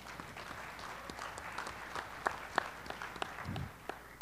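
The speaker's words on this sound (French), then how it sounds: "nous pouvons applaudir Mounir Mahjoubi" Audience applause for a French minister at a public talk, faint and thin, with scattered individual claps standing out over a soft background wash, heard at a distance.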